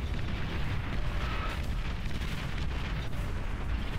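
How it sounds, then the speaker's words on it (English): Continuous dense rumble of explosions and heavy fire in a massive naval and land battle of the RTS game Beyond All Reason, with juggernauts and commanders dying, loud and unbroken for the whole stretch with no clear gaps. "More explosions! I'm not sure if those are juggernauts dying,"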